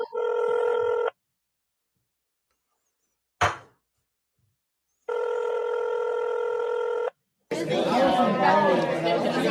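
A telephone ringback tone sounds in two long, steady electronic rings separated by silence, broken by a short click, before a caller starts talking over the line.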